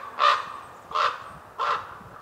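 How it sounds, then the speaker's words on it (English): Three loud, evenly spaced raven caws ring out alone, each a harsh croak with a short gap between. "you see all these ravens and the way they interact with each other"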